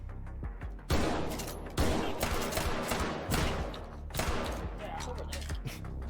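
Gunfire rings out in the VR shooter Hot Dogs, Horseshoes and Hand Grenades, several sharp close shots and short bursts over a few seconds with game ambience between them.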